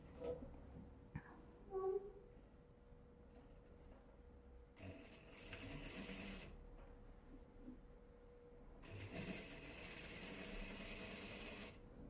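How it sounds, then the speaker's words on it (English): A sewing machine stitches the lower front of a dress to its waistband in two faint bursts of rapid mechanical whirring, separated by pauses and light handling clicks. "we need to stitch the lower part of the front to the waistband"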